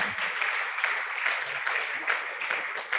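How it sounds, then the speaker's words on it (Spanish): A congregation at a men's church gathering applauds in a dense, continuous roar of clapping, loud and sustained with a slight pulse throughout. "Dale un aplauso al Señor."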